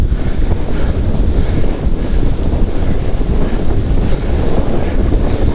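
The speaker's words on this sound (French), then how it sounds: "il y a beaucoup de vent" Strong, continuous wind roars across the microphone while kitesurfing on open water, a loud, dense rumble with faint surf beneath it and no voices.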